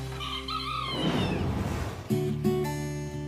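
Roosters crowing on a small hobby farm, a bright rising cock-a-doodle-doo that carries across the opening, then fades into a dense, noisy wash of farm sound.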